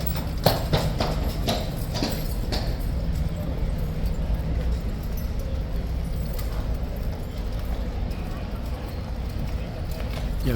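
Horse hooves clip-clopping on the parade ground at Horse Guards during a mounted ceremony, a steady, fairly close rhythm of hoof strikes running throughout, with people talking over it.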